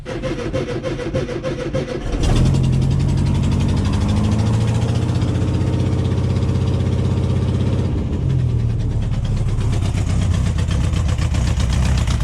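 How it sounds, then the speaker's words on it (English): A Volkswagen Beetle engine turns over and catches on a harsh cold start after two seconds, then settles into a loud, close, rough idle that shifts slightly in pitch near the end. "That's such a harsh cold start."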